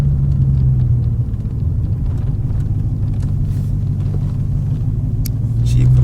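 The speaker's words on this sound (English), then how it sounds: "the Corsa cold air intake is" A Dodge Challenger Hellcat fitted with a Corsa cold air intake rumbles steadily from inside the cabin while driving, a loud, deep continuous engine drone with a slight rise near the end, with some talk over it.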